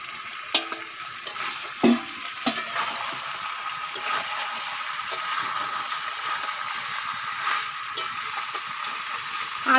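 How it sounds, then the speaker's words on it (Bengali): Fried potatoes being stirred and sautéed into a duck meat curry, a continuous wet sizzle broken by sharp scraping knocks of a spatula against the pan, close and fairly loud, with no talking. "আলু দেওয়ার পরে কিছুক্ষণ কষিয়ে নিয়েছি"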